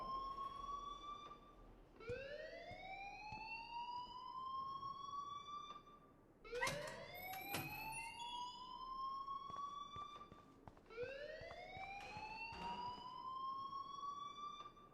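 An alarm in the video game Life is Strange wails in repeated rising sweeps, each climbing then holding before the next starts, with a brief clattering burst partway through.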